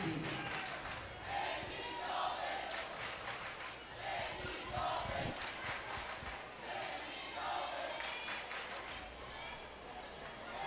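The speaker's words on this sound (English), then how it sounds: "The crowd is cheering Andy Dalton at Matt Benson." A crowd at a high school basketball game roars and cheers in a gym, a loud sustained swell with chanting peaks, while a commentator talks over it.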